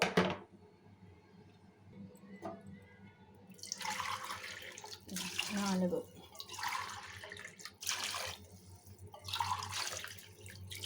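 Water poured from a glass into a cooking pot while making chicken biryani, coming as several separate splashing bursts with pauses between them, close by, with a voice speaking in the gaps.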